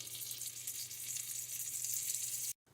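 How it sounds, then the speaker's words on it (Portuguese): Butter and olive oil heating in a deep pan for risotto, giving a steady, close, crackling sizzle throughout, with no talk, before cutting off abruptly near the end. "Manteiga e azeite quente, manteiga derretida."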